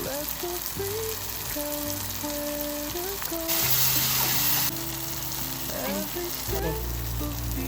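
Chopped tomatoes with salt fry in a pan for an egg and fenugreek curry, giving a steady sizzle throughout, with a louder hiss partway and faint voices and kitchen tones in the background.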